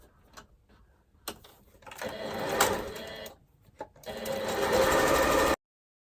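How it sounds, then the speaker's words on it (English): A sewing machine stitches fabric for an apron in two bursts of rapid, even mechanical whirring and clatter, separated by short pauses and faint handling sounds, close up and alone. "Let's hope this sewing machine behaves itself."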